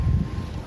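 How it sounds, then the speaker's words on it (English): Wind buffeting the microphone in low, gusty rumbles, brief and fairly loud, with no voices. "Woo, it's windy too."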